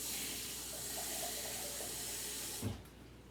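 Water poured from a container in a home kitchen for pork roast gravy, a soft steady trickling over a hissing background, ending in a short splash as the pour finishes.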